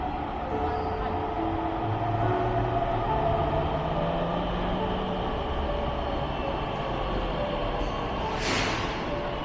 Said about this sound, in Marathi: ह्याली ट्रेन आली मम्मी